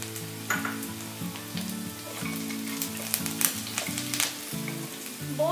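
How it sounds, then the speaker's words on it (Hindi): Raw peanuts and curry leaves sizzling in oil in a pan for savory vermicelli, with a lively steady crackle and a regular pattern of spoon strokes scraping the pan, close and clear with no talking. "मिक्स करने के बाद हम इसमें रॉ पीनट्स ऐड कर देते हैं।"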